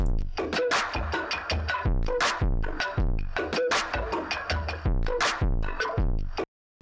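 A harshly distorted, crunchy instrument part plays rhythmic notes, gritty and compressed, loud throughout before cutting off abruptly at the end.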